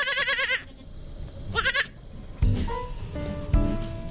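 Newborn baby goats on a remote Korean farm bleat in loud, close, wavering cries, two long calls separated by a pause, followed by thumps and softer shuffling noises.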